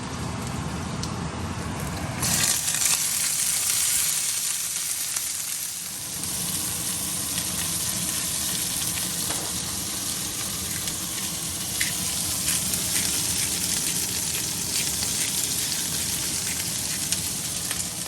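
Squash patties frying in a pan, a steady broadband sizzle that drops briefly early on, then continues evenly and close with small pops.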